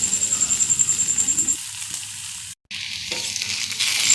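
Taro stolons (loti) sizzle and fry in a pan with a steady hiss, briefly broken by a short gap before the frying noise swells back up, with no voices.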